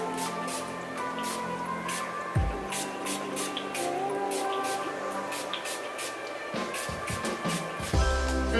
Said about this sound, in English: It's a shine spray and it, you know, tames all the frizz that's flying away.